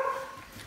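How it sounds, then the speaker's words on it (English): A pet guard dog indoors during Christmas decorating gives a brief, faint bark or whimper, heard alone. "She's a really good guard dog."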